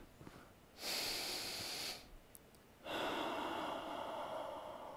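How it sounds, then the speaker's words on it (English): Deep breathing in a yoga class: a long, audible inhale, a short pause, then a second long, airy breath. The breaths are close, slow and unhurried, with no talk. "We're breathing here"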